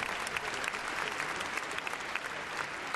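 Audience applause at Crufts dog show during a gundog demonstration, a bright, even wash of many hands clapping that sustains for about three seconds without a break.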